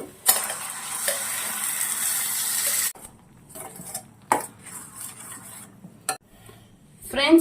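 A spoon scrapes a blended paste of tomato, garlic, cashew and dried red chilli into a pan for paneer tomato curry, first with a long steady rasp, then several short scraping and knocking strokes, close and fairly quiet.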